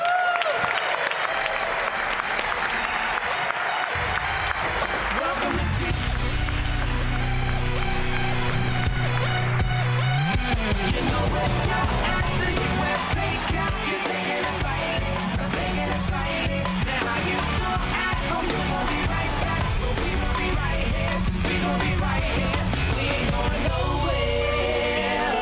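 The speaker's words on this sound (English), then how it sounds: "put your hands together as if it is a holiday morning, and welcome to this in space, your Washington Wizards" An arena crowd applauds and cheers steadily for the Washington Wizards' entrance, a dense, loud, continuous roar of clapping. Music and a booming announcer voice ring out over it.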